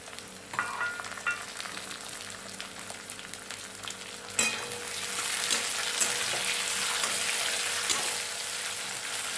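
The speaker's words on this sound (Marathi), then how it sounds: "मिरची पण आपण दोन मिनिट तेलात फ्राय करून घेऊ" Green chillies fry in hot oil alongside browned garlic, giving a steady close sizzle with a few stirring scrapes, rising into a louder, fuller crackle partway through.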